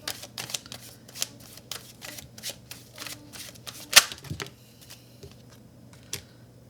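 Tarot cards shuffled by hand, a run of crisp riffling bursts and soft card flicks in a quiet room, close and distinct, with one sharper snap near the middle.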